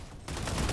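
Gunfire in the video game System Shock, a brief rapid burst of shots that starts abruptly after a quiet moment and continues steadily.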